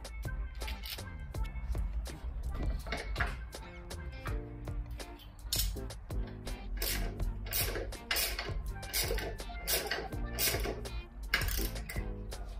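A ratchet tightens bolts on the suspension of a sport electric motorcycle, giving close, rapid bursts of sharp clicks in uneven runs with small metallic knocks between them.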